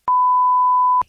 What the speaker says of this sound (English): let's beep out her name